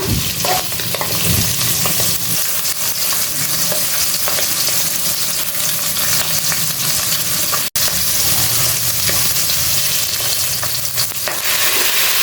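Boal fish fries in hot oil with turmeric in a pan. A dense, loud, continuous crackling sizzle runs throughout, with occasional stirring scrapes, a brief dropout near the middle, and no talking.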